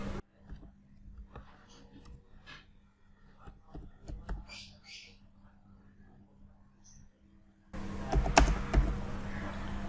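Light typing on a computer keyboard at a desk, a sparse scattering of faint clicks and taps under a low hum, with a sudden louder stretch of clatter and noise near the end.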